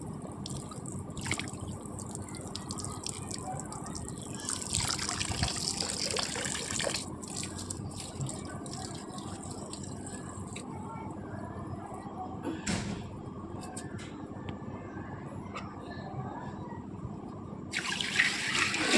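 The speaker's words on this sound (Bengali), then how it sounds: "পাইপ দিয়ে কিছুটা জল দিয়ে আমি আমার এই যে জলে যে জায়গাটা এটা আমি পরিষ্কার করছি।" Water poured from a pipe while cleaning an aquarium, a continuous splashing trickle and gush that swells louder near the end.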